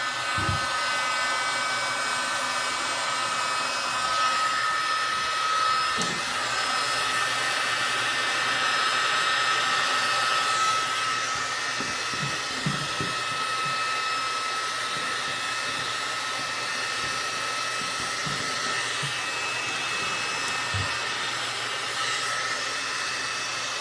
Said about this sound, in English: The heat gun will boil the sticker off the wall.